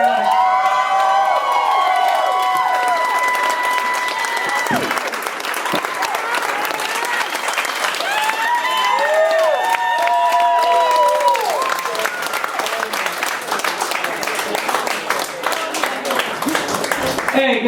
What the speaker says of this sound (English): can we get another round of applause going for Aaron Torres?